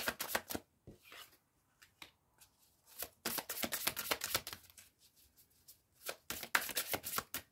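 Lenormand cards being shuffled and drawn by hand, close and quiet, in quick papery riffles and flicks that come in bursts with brief silent gaps between them.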